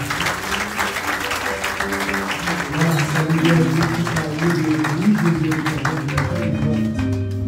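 Sustained applause at a wedding, a dense wash of clapping with voices and a tonal background underneath, continuing steadily throughout.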